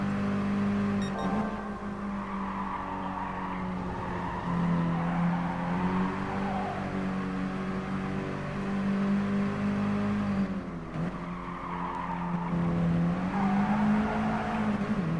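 Several cars race in Gran Turismo Sport, engines droning and rising and falling in pitch as they shift gears, a steady moderate roar throughout.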